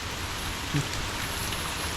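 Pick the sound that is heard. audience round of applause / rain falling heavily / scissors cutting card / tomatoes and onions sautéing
rain falling heavily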